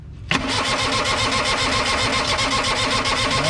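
A New Holland LS125 skid steer's small engine cranks and catches with a sudden burst, then runs on as a steady, loud mechanical rumble close by.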